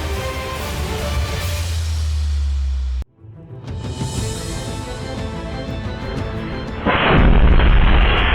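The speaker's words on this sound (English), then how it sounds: "The box exploded, but the person's fine." A box bursts in a loud explosive boom, with a sharp cut followed by a rumbling, crackling blast that swells louder near the end, set among other wild explosions.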